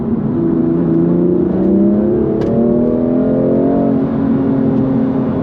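A BMW M2 Competition (F87) kicks down and accelerates hard, its engine note rising steadily in pitch as the revs climb, heard loud and clear from inside the car.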